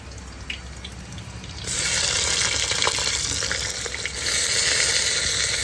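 Onions sizzle in hot oil with whole cumin and green chilies: a steady hiss that jumps louder partway through, then swells again near the end, with faint clinks of stirring.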